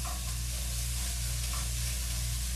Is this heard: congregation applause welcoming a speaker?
no